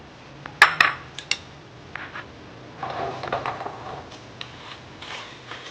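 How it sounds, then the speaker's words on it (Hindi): Sugar for Bengali mishti doi poured into a metal pan, heard as a few sharp clinks and scrapes near the start, then softer rustling and scraping of the grains settling, close and fairly quiet. "तो चलें चीनी डालते हैं और अभी इसको अच्छे से मेल्ट करेंगे।"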